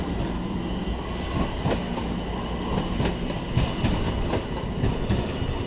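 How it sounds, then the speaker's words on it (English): A light rail train on the PRT viaduct near Library rumbles steadily past with continuous clickety wheel clatter and a faint metallic squeal, loud and close, with no talk. "There's a train right there."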